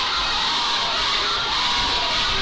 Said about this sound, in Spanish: Dogman, Dogman, grita la gente aquí. Es ensordecedor esto.